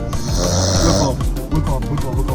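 A woman's heavy snoring rattles in repeated rhythmic breaths, loud and close, inside a car.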